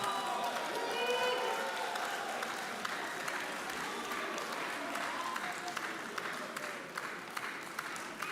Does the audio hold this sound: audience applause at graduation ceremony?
yes